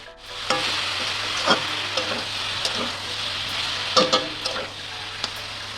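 Winter spinach leaves go into a hot pan and are stirred while frying. A loud, steady sizzle runs under repeated scraping and clinking of the utensil against the pan.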